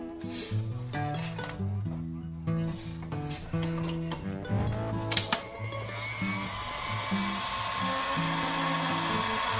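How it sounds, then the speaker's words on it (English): Heat gun shrinking heat shrink tubing over a wired waterproof quick connector for a kayak, its steady blowing hiss rising in the second half while faint musical tones and a few clinks sit beneath, no talking. "now we're gonna heat shrink this stuff down real quick"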